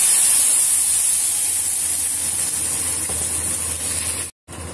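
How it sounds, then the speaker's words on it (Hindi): Garlic tempering in hot oil for a bottle gourd dish gives a steady, bright sizzle and hiss that holds close and even, then cuts out briefly near the end. "अभी मैं इसमें इसको तड़का दूंगी।"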